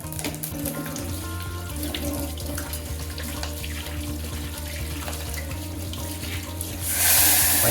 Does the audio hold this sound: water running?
yes